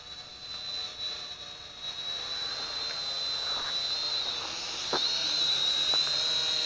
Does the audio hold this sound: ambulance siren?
no